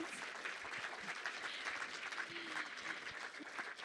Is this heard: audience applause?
yes